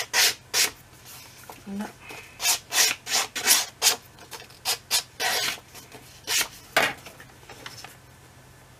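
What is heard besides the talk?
filing with a file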